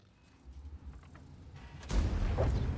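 A tank cannon shot in World of Tanks, a sudden loud boom near the end following a quieter, rumbling stretch of game sound.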